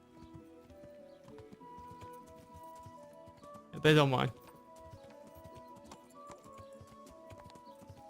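In the Kingdom Come Deliverance game, a horse's hooves clip-clop steadily as it is ridden through a church graveyard, with a brief louder burst midway and someone speaking over the soft background music.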